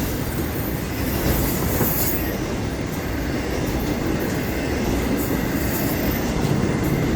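A Florida East Coast Railway manifest freight train rolls past near Fort Pierce, a loud, steady, close roar of wheels and rail noise that holds for the whole stretch with faint squeal and clatter.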